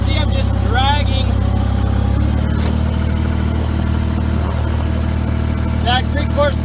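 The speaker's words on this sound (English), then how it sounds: "I'm just running the tractor and scraping along the ground" A tractor engine runs steadily and close by while scraping along the ground on a rainy February day near a creek, with a low constant rumble throughout and faint higher chirps at the start and end.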